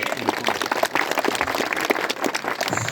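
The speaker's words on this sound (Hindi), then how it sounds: "विधायक जी ने एक बार जोरदार तालियां होनी चाहिए" Crowd gathered at a memorial gate ceremony for a 1948 martyr applauding the MLA, steady loud clapping from many hands, close and unbroken throughout.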